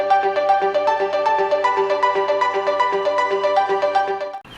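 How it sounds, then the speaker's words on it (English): A repeating chime-like bell notification jingle rings in a steady melodic pattern, clear and alone, before cutting off abruptly at the end. "make sure that you hit that notification bell"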